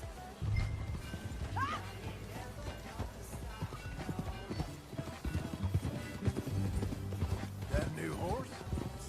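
A horse's hooves clip-clop as it is ridden in Red Dead Redemption 2, with occasional whinnies over game sounds and talking.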